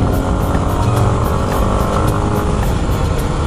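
A stock Yamaha WR250R motorcycle engine holds high revs while riding on a city highway, making a loud, steady buzzing drone mixed with wind rush, with no talking.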